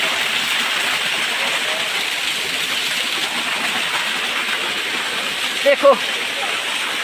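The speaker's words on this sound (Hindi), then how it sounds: "इसे कहते हैं स्मॉल वाटरफॉल" Small waterfall on a river, a steady broadband rush of falling water filling the whole clip at close range, with someone briefly speaking over it near the end.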